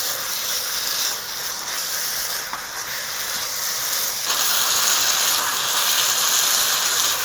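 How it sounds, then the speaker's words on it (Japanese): Water hits a smoking-hot pan of dakgalbi, Korean spicy chicken stir-fry, producing a loud continuous steaming hiss and sizzle that swells further partway through, with no talk. "煙が出るところで水を入れます。 水の量は4分の1カップ。"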